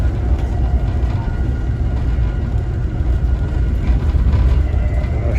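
Amtrak train 177 out of Boston, heard from onboard while slowing for a curve: a steady, loud low rumble of wheels and car body with faint rail clatter, no talking.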